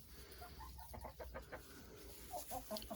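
Hens in a farm coop cluck softly in short irregular bursts, several birds close by over a quiet hiss, with no talking.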